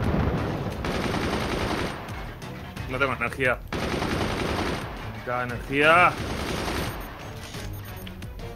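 Rapid bursts of cannon fire in the game Forts rattle against a busy, dense soundtrack, while people talk over the action.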